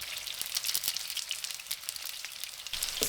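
Meatballs searing in hot vegetable oil in a pan over medium-low heat, giving a steady, close crackling sizzle with scattered sharp pops throughout and no talking.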